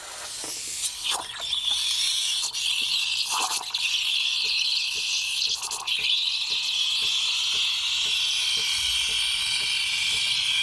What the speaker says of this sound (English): the temperature is going to go to the milk frothing wand